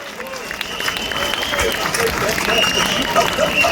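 Crowd at a London street rally for children applauds and cheers the Gurkhas, a steady broad wash of clapping and voices sustained throughout, fairly close and loud.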